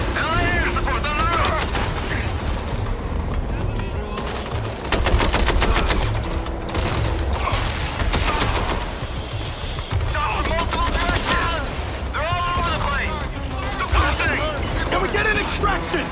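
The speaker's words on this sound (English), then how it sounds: "Heavy fire incoming!" Rapid gunfire from the MindsEye video game campaign, dense bursts of automatic weapons fire and shots layered continuously throughout, loud and close, with game voices calling out over the combat.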